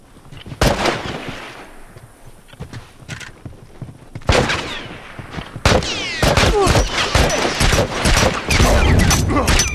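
Video game gunfire in The Last of Us multiplayer, scattered loud shots and bursts with overlapping reports and clatter, growing denser and more chaotic toward the end.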